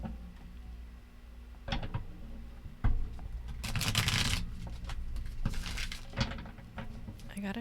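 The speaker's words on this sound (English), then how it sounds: "I gotta shuffle more carefully, otherwise it will fucking fly away." Tarot cards being shuffled by hand, a series of soft riffling and slapping bursts over a steady low hum, loudest in the middle, with brief bits of movement around them.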